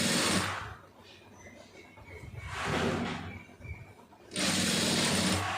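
A tailoring sewing machine stitches a lining blouse in three loud, whirring bursts, one at the start, one in the middle and a longer run at the end, separated by quieter pauses.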